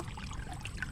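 Water trickles quietly out through a hole in a rice paddy, a soft continuous dribble heard close up and faint.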